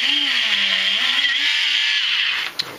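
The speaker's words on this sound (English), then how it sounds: "I do happen to have me a little Dremel machine, so excuse the noise when I try doing this." A small Dremel rotary tool drills a hole through a hat held on a wooden support block, giving a loud, steady high-pitched whine with a shifting lower motor tone that cuts off near the end.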